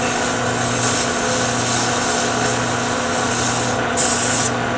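Sandpaper at 220 grit rubs against a turned wooden screwdriver handle spinning on a lathe, giving a steady, close, continuous hiss over the motor's hum, with a brief brighter scrape near the end.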